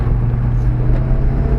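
Mitsubishi Galant VR4 engine during hillclimb driving, a loud, steady low engine drone heard from close, held at constant revs without speech.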